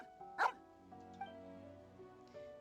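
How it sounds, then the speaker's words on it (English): A dog gives one loud bark, then two or three softer yips and whimpers close by, with a steady low hum running underneath. "Rocher, see the dog recognizes your scent"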